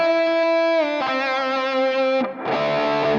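An electric guitar plays through a Nux MG-300 with overdrive, expression pedal pulled all the way back, ringing out loud sustained notes and chords, with a brief dip before a fresh chord strikes.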